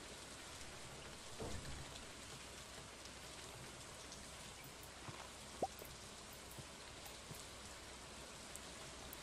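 Steady rain falling in the farming game Stardew Valley, a soft continuous wash of drops with a brief louder patter near the start and a short sharp tone midway, no voices.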